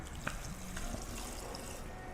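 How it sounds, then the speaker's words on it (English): Brine poured into a ghost pepper hot sauce mixture: a faint, steady trickling pour with a few small splashes, heard close and quiet for about two seconds. "Now I'm going to pour the brine into the mixture"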